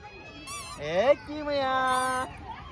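Loud, nasal honking calls from ducks nearby in Kharghar Central Park, a few drawn-out squawks in a row over faint background murmur.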